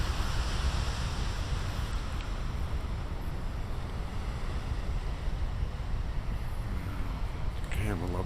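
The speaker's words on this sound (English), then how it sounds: "Damn, I love the sound of the waves." Big ocean waves break as a continuous broad roar that fills the whole stretch, with wind buffeting the microphone and a brief voice near the end.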